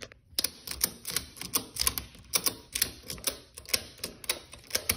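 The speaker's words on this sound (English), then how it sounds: "and then ratchet this thing down" A ratchet strap is cranked tight on a jet ski trailer holding a Sea-Doo GTX 170, giving quick runs of crisp mechanical clicks in a regular, repeating rhythm, close up and without talk.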